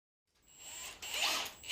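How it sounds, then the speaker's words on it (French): A power screwdriver drives a screw through a metal strap into a ceiling while fixing drain pipes, giving a short whirring drive of about a second and a half that rises in pitch near the end, with no talk. "Puis, nous vissons le feuillard."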